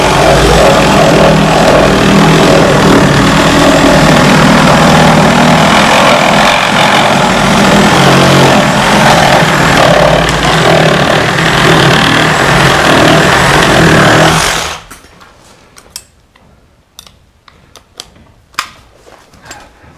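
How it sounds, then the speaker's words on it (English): A Sawzall reciprocating saw cutting metal runs loud and steady with a harsh buzzing drone for about fifteen seconds, then stops abruptly, leaving faint clicks and small knocks. "When you're cutting metal, don't rev your sawzall right up."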